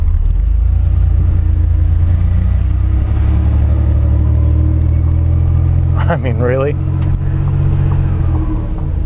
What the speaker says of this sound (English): I'm going to drop it into overdrive. It's got a 4-speed transmission, and listen to that exhaust.